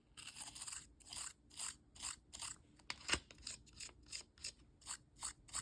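Soft, rhythmic scratchy rubbing of eyelash extension fibers, about a dozen brief rasping strokes in quick succession, close and quiet, with one sharper tick partway through.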